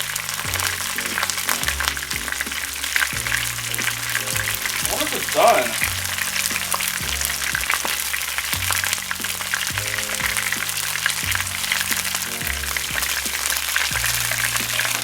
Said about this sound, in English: Yeah, it's frying up alright.